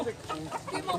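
A one-year-old high-station gamefowl rooster with white legs clucks at a Cebu market, giving short near calls in quick bursts with faint voices in the background.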